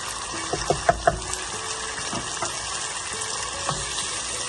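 Water is poured into chana dal while it cooks, a steady close trickle with faint bubbling and a few soft plinks from the pot.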